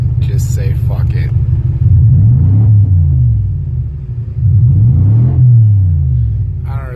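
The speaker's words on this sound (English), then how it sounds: "we're going to have to drive the Cadillac without brakes and just say fuck it" A junked Cadillac with no working brakes rolls through the first snow, its engine giving a loud, steady low rumble that swells and fades in two long surges.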